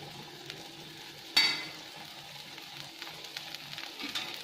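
Millet dosa frying on a hot pan after oil is poured around its edge, giving a faint, steady sizzle with a brief clatter early on and small crackles throughout.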